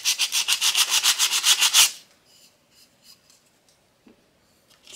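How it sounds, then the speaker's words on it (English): Brisk, rhythmic scraping of sandpaper smoothing the edges of a cured eco-friendly plaster piece, about a dozen quick strokes close up, then quieter scattered rubs and a small knock. "here's where I can take a piece of that sandpaper and just smooth out the edges"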